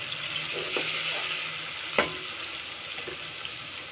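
Ginger, garlic and green chili paste fries with golden onions for a carrot-potato curry, a steady close sizzle broken by a few sharp stirring knocks.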